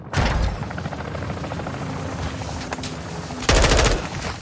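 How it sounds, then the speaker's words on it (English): Heavy cargo helicopter rotor drone in a military shooter video game, overlaid with steady bursts of automatic gunfire and a louder close volley near the end. "Cargo helo is en route to the AO."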